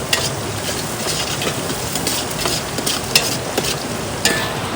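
Onions fry in a pan over an outdoor wood-fired clay stove by a riverside, a dense, steady sizzle with scraping stirring strokes throughout.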